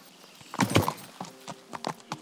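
Horse hooves clopping in the video game Kingdom Come, a short uneven burst, a few heavy thuds then lighter scattered hoofbeats close by, with a faint steady tone beneath.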